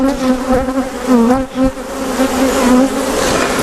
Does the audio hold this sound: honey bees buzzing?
yes